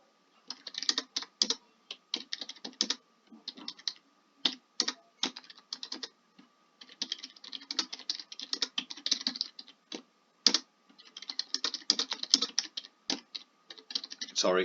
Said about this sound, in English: Sorry, I can't type and talk at the same time.